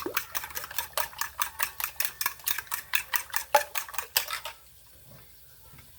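A spoon stirs seasoning into quiche filling in a bowl, a rapid, even series of clinking, scraping strokes that stops abruptly, leaving quiet room tone.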